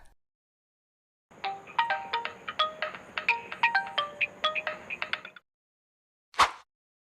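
A telephone in an animated school film rings with a bright, repeating electronic ringtone melody of quick chiming notes for about four seconds, then stops, followed by a single short click.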